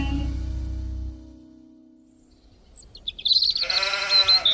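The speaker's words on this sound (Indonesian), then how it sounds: "Sepertinya domba-dombaku sudah aman." A sheep bleats several times in quick, wavering calls, close and clear, following a low musical hum that fades out beforehand.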